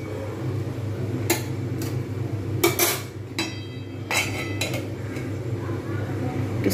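Metal clatter of a lid and utensils on a cooking pot of fish roe curry, several sharp clinks and knocks spread out over a low steady background hum.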